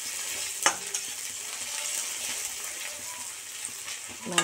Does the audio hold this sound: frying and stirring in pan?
yes